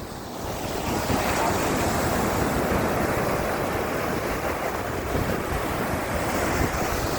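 Sea waves wash onto a beach in a continuous loud roar, with heavy wind buffeting the microphone and no voices, steady throughout.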